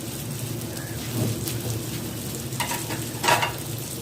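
Chicken malai boti pieces frying in a pan, a steady close sizzle with faint crackles and a couple of brief stirring or turning clatters, no voices.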